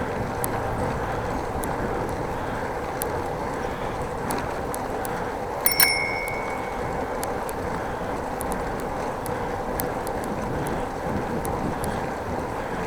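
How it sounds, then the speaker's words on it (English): A single short bicycle bell ring chimes out partway through, over steady wind rumble and outdoor noise. "Just ringing my bell because I couldn't pass there"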